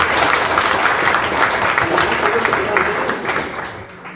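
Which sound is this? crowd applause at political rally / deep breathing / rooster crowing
crowd applause at political rally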